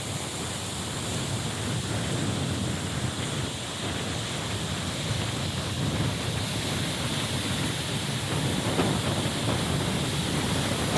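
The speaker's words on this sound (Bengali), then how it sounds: "একটু আগে নদী একেবারে শান্ত স্নিগ্ধ ছিল, যেই ঝড় উঠলো সঙ্গে সঙ্গে নদীতে" Storm waves on a river in the Sundarbans during a sudden squall, a continuous loud rush of churning water and wind noise with no breaks.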